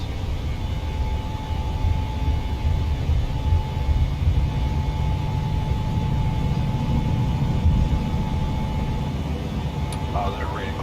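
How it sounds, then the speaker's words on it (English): A vintage airplane from a Houston, Texas flight museum takes off with a loud, steady engine drone that holds for about ten seconds, with a thin high tone running through the cabin noise. "So we're going to take off, do a very quick circuit, attempt a low altitude pass over the museum"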